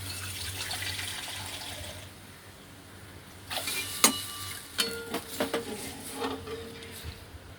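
Water pours into a hot pan of tempered spices for kadhi, first as a steady hissing rush, then as a series of sharp clatters and bubbling spurts close by.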